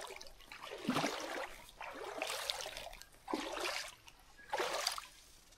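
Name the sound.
running stream water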